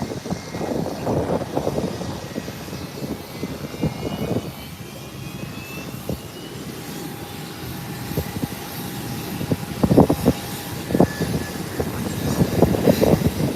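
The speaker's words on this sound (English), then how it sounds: "This is a Gulfstream 4 on the runway, getting ready for takeoff." A Gulfstream 4 jet waits on the runway at Howard Hamilton International Airport before takeoff, its engines giving a loud, steady roar with a fluctuating whine and rumble, heard from outdoors without voices.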